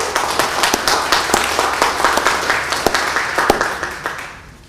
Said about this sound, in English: we'll give a round of applause to everyone